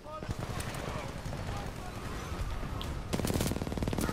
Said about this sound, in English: that's hostile Titanfall noise